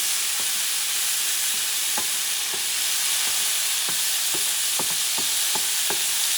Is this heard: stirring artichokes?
yes